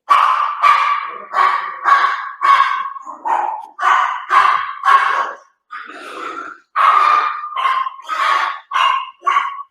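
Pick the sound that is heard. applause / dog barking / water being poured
dog barking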